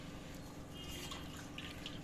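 Water poured over rice for plain kuska biryani makes a faint, steady, close liquid trickle with light dripping under a low background hum.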